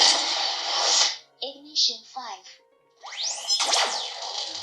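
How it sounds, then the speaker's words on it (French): A Saberspro replica Star Wars lightsaber cycles through ignition effects: a bright humming buzz, a few short electronic bleeps, then a loud rising ignition sweep settling into a steady hum. "vous réglez les différents effets d'allumage du sabre"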